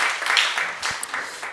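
A short burst of applause from a church congregation, broadband clapping that swells and fades over a second and a half, moderately loud with no talk.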